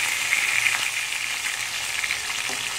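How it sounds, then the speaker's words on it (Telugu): Onions and green chillies frying in hot oil for a bitter gourd tamarind stew, a steady close sizzle with faint stirring, no voices. "ఇవి కూడా కొద్దిగా ఫ్రై అవ్వాలి మనకి."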